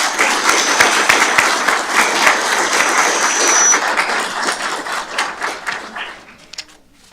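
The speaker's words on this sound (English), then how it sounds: "let's have a round of applause for firefighter Alec Hardesty" An awards-ceremony audience applauds a firefighter with dense, close, loud clapping that stays full for several seconds, then thins into scattered individual claps and fades out near the end.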